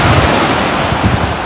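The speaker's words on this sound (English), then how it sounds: "the waves are absolutely pounding." Rough sea waves pound the shore at Sheringham on the North Norfolk coast, a loud, continuous roar of surf mixed with heavy wind buffeting the microphone, with no voices.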